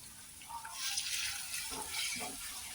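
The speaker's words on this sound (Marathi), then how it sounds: "आता याच्यात आपल्याला टाकायचंय थोडंसं पाणी" A little water pours into a hot pan of chilli potato ingredients, giving a soft, steady hiss and splash that swells briefly, then settles.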